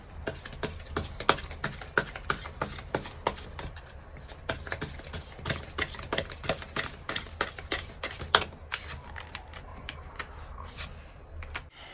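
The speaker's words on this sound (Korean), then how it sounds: "그러면 조언 카드도 몇 장 더 뽑아보도록 할게요." Tarot cards are shuffled and drawn in a quiet room, with rapid crisp flicks and soft slaps of cardstock repeating irregularly over a low background hum, close and alone.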